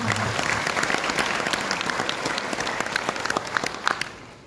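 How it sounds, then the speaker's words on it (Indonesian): Audience applause at an anniversary celebration event, a thick wash of many hands with individual sharp claps standing out, steady for several seconds and growing slightly more scattered toward the end. "Mari kita tepuk tangan buat Bapak Ibu."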